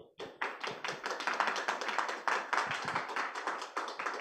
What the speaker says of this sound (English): Please give warm applause to the speakers.